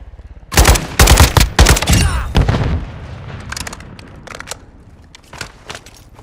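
Gunfire in Call of Duty Warzone 3 DMZ with an SPX-80 sniper rifle: loud, dense bursts of automatic fire and heavy booms up close, thinning out into scattered, fainter shots.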